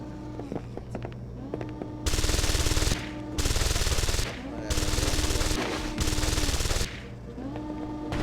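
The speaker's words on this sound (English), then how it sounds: "Stop shooting at the damn turret." Bursts of rapid automatic gunfire aimed at a turret in the PC game Deus Ex: Invisible War come in four loud, sustained volleys. Quieter game ambience and mechanical whirring fill the pauses between them.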